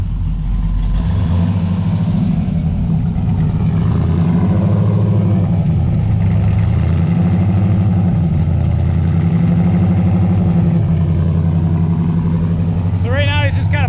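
A pickup truck with a 6.0 engine idles steadily while being tuned, a loud, close, continuous rumble whose pitch wavers slightly as the idle is adjusted, with a brief squeal near the end.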